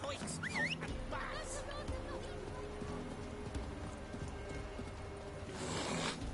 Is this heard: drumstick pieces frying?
no